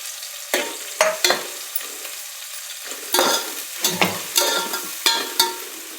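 Onions sautéing in hot oil with cumin, green chillies and tomato in a pan for spiced khichdi, a steady sizzle broken by several sharp spatula scrapes and stirs, close and fairly loud.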